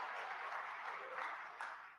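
Scattered applause and clapping from the audience at a Michigan governor's State of the State address, a steady broadband patter of hands filling the hall at moderate volume for about two seconds.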